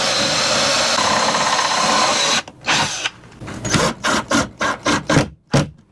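A power drill driving a screw into a window shade mount on a 1x2 board in an RV, a steady whir followed by a series of short stuttering bursts as the screw is tightened, close and loud.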